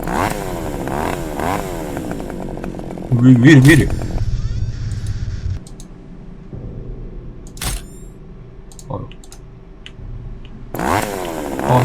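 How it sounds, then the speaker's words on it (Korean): A chainsaw revs in a Korean horror video game about a cursed camera, loud bursts of buzzing engine rising and falling amid clatter and jolting effects, while a player talks and exclaims over it. "전기톱 진짜 너무 무서운데"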